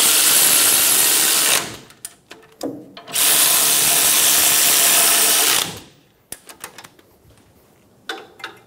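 An impact or power tool snugs down the parking brake bracket bolts on a 2007-2017 Ford Expedition. Two loud, close, sustained bursts of rattling whirring are separated by short clanks and tool handling noises.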